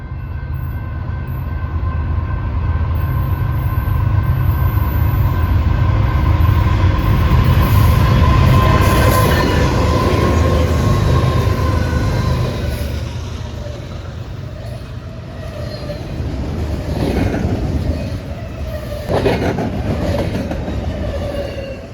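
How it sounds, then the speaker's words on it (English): BNSF freight train led by locomotive 3997 passing at about 50 mph at night; a loud, steady roar of wheels and cars on rails that swells, holds, then eases with some clicking and squealing toward the end. "our next train, led by Bnsf number 3997, going an estimated 50 miles an hour"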